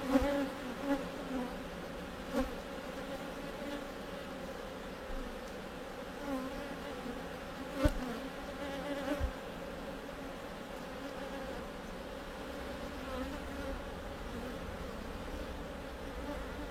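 Bees buzz around a beehive frame in a soft, continuous hum. A few faint clicks and knocks sound over the drone, and no one speaks.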